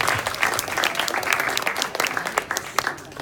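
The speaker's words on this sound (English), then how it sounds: "Let's just give a round of applause." Wedding guests break into applause for a couple marking 1,000 days together, a bright, crackling patter of many hands with individual claps popping out as it thins toward the end.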